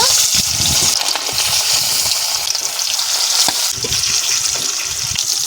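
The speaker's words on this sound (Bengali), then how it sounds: "তেল গরম হয়ে গেছে, ইলিশ মাছের পিসগুলো একে একে দিয়ে দেব।" Pieces of hilsa fish frying in hot oil, a loud, continuous bright sizzle and crackle with small popping bursts, close up with no talking.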